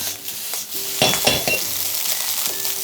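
Egg fried rice stir-fried in a pan gives a steady, moderate sizzle, with a burst of scraping and metallic clinks as a utensil tosses the rice partway through.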